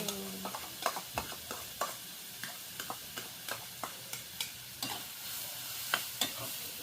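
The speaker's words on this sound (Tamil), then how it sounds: "கருவேப்பிலை போட கருவேப்பிலையை போடுவோம். வதங்கி வரட்டுமே." Curry leaves sautéing in a frying pan for cutlets, a steady low sizzle punctuated by regular spatula taps and scrapes about twice a second, close and fairly quiet, with no talking.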